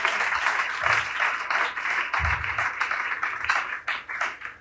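A church congregation bursts into applause and cheering at an evening gathering, a dense, loud wash of clapping that swells and fades across the clip with no talk over it.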